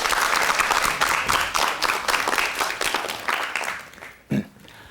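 A television studio audience applauds steadily for several seconds, a dense crowd of clapping that tapers off, with a brief voice-like sound near the end.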